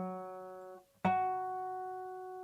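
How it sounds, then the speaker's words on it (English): A plucked string rings with a steady tone that fades, then is struck again so its first overtone sounds, a clearly higher, pure pitch that sustains and slowly decays. "I can force the first overtone to come out"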